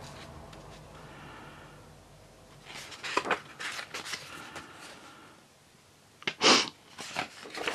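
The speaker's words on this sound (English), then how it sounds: "Excuse me sniffling at you" Several short, breathy nasal sniffs come in bursts, close and fairly loud, with quieter rustling and soft background noise between them.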